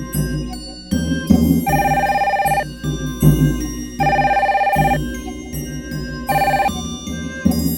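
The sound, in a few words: telephone ringing in an animated series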